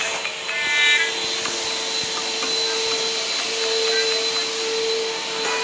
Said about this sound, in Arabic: بس صوت المكنس عالي